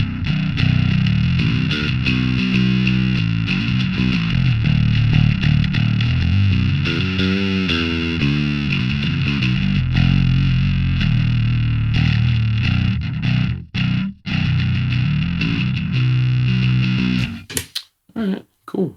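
Bass guitar runs through an STL Tonality Will Putney Suite amp simulator set for tight distortion, playing loud, sustained, chugging riffs with shifting notes before cutting off into choppy stops near the end.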